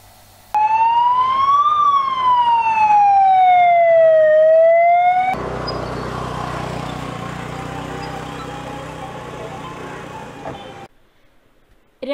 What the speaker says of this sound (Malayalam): രാവിലെ 9:30 സൈറൻ മുഴക്കി ഫയർഫോഴ്സിന്റെയും പോലീസിന്റെയും വാഹനങ്ങളും ആംബുലൻസുകളും പെരുമ്പ വള്ളുവ കോളനിയിലേക്കെത്തി.